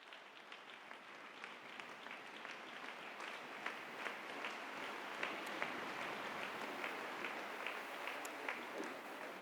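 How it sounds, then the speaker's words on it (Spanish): A church congregation gives a sustained round of applause during a sermon, the clapping soft and distant but continuous and even, with occasional sharper claps. "un aplauso fuerte a nuestro Padre."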